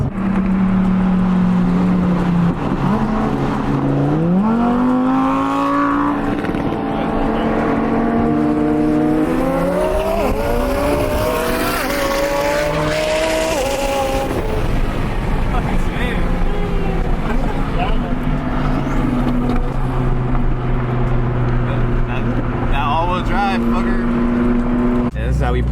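A 1000hp McLaren 720S and a twin-turbo Audi R8 V10+ race, their engines rising in sweeping, loud revving pitch climbs and shifts with a steady roar throughout, while people talk nearby.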